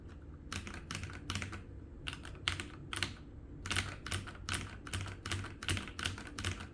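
Quick bursts of clacky keystrokes on a mechanical keyboard, typed in short runs with brief pauses, close and fairly quiet.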